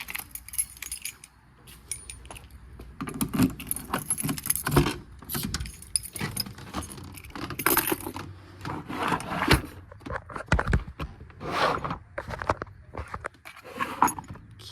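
Car keys jangling and rattling near an old Nissan Z31, close and irregular, mixed with rubbing and knocking handling sounds, no talking.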